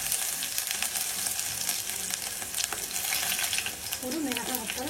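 Onion frying in hot oil with popped mustard seeds for a South Indian beetroot rasam tempering, a steady close sizzle with occasional stirring clatter, no talking.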